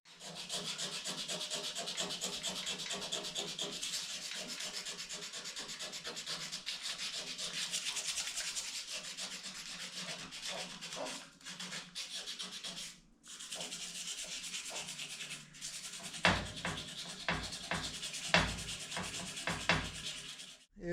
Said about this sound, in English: work on these scratches a little bit with some 120 grit sandpaper